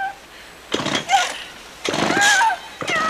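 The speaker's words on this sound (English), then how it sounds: "Even the chainsaw won't start." A chainsaw from a Friday the 13th film sputters in short failed bursts. It catches briefly, then dies, with a few loud uneven revving attempts separated by pauses.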